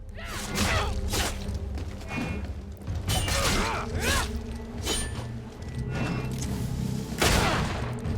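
An enemy fires a gun in Greedfall, giving a series of loud sharp shots spread through the clip, each with a short ringing tail, over clanking background action.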